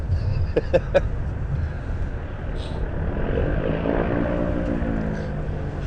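An Airbus A320neo rolls out after a smooth touchdown at Southend Airport, heard from the windy control tower as a moderate, steady engine roar under gusting wind.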